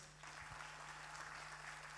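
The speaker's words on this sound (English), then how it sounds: "Give a round of applause to you all" Applause from a crowd at an award ceremony, heard faint and distant, a steady patter of clapping with a low electrical hum beneath.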